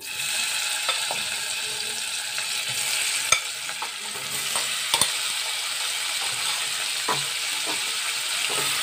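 Paneer cubes fry in oil in a kadhai for kadai paneer: a steady, close hiss of sizzling runs throughout, punctuated by a few sharp clicks and scrapes of a spatula against the pan.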